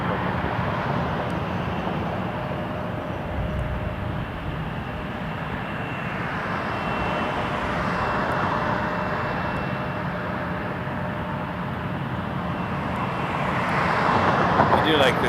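Embraer jet airliner on approach to Toronto Pearson Airport, its engines a steady broad roar that swells slightly toward the end over constant wind and background noise.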